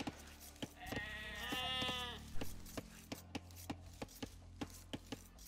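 Sheep bleat in the Age of Empires II video game, a wavering bleat rising over the game's background, followed by a steady series of sharp chopping clicks from the game.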